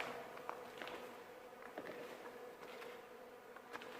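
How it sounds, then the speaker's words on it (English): Bees or flies buzzing inside a large old building in Greece, a faint continuous drone with small rises and dips, heard over quiet room ambience with a few soft knocks. "there must be some bees or flies in here or something."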